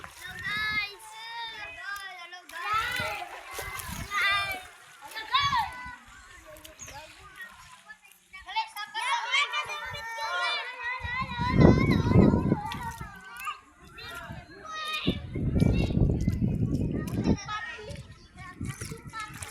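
Children shout and chatter at a seaside resort in Mati City, with bursts of splashing water near the end and adult talk over the top, a lively, busy outdoor bathing scene.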